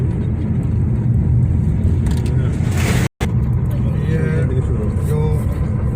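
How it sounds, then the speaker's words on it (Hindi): Road traffic passes on a busy West Bengal highway heading toward the Bangladesh border, heard from inside a moving Tata Nano: a loud, steady road and engine roar with a vehicle swelling past, while someone talks over it. "ट्रैफिक हमेशा रहता है इसमें"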